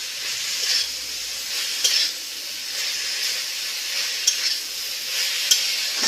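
Pumpkin and greens curry being stirred in a pan, a soft continuous steamy hiss and sizzle with a few sharp scrape or clink accents from the spoon, close and without talk.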